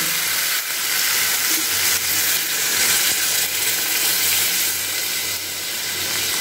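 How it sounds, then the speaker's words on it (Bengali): Water hitting a pan of hot, well-fried spiced kohlrabi, producing a loud, dense, continuous hiss and sizzle that holds steady throughout, close and without talk. "এবারে আমি পরিমাণ মতো জল দিয়ে দেবো।"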